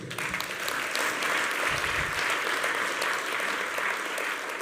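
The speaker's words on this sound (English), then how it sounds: "Please give them a round of applause." Sustained applause from a sizable crowd at a talk in London, steady dense clapping that holds at full strength throughout with no voices standing out.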